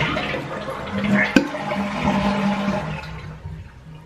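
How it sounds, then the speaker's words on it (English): A toilet being flushed during bathroom cleaning gives a sudden sharp click of the handle, then a loud rushing, gurgling swirl of water that slowly tapers off over a few seconds. "so I can go ahead and flush all of this out"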